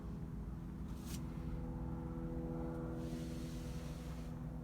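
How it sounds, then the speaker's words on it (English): A DuroMax XP10000E gasoline portable generator with an 18 horsepower motor runs in a tight indoor space, a steady loud low engine drone and hum with no one talking. "this is the generator I'm using. It's the DuroMax XP10000E."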